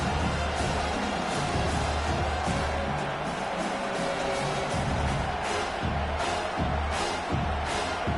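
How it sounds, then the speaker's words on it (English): A stadium crowd at a college football game between Alabama and South Carolina roars on third down, a broad, sustained wash of noise that swells and holds throughout, with no clear speech over it. "Decibels rising as the crowd gets behind this defense on 3rd down"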